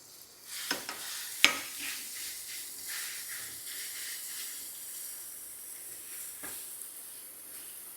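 Chutney stirred into hot oil tempering in a pan with the stove just switched off, a soft steady sizzle and hiss with a few sharp clinks of a spoon near the start.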